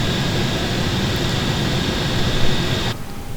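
An AI traffic jet in Microsoft Flight Simulator roars steadily in a loud, broad, unbroken rush, then drops off abruptly near the end.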